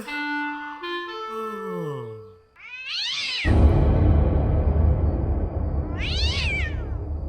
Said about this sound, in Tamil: அது பூனைப்பா. அதுக்கு போய் பயந்துக்கிட்டு